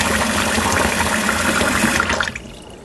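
Water rushing out of rinsed garri into a kitchen sink, a loud continuous gushing splash that tapers off abruptly near the end, close by, with no voices.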